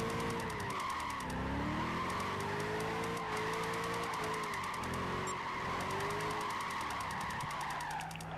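Ford Mustang GT drifting in Gran Turismo 5, a continuous loud tire squeal layered over a revving engine whose pitch rises and dips as the car slides through a corner.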